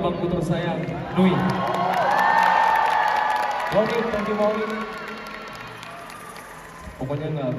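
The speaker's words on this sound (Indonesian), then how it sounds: "Boleh tepuk tangan untuk abang putra saya" A Jakarta concert crowd at a gig cheers and applauds, with sustained whoops rising and falling and a burst of renewed cheering near the end.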